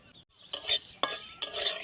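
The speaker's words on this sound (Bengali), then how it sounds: "ভাজা মশলা, যেটা আমি শুকনো খোলায় ভেজে নিয়ে শিলে গুঁড়ো করে নেব" Spices dry-roasted in a wok over a clay stove, heard as three quick scraping stirs of a metal spatula against the pan, close and crisp with faint sizzling between strokes.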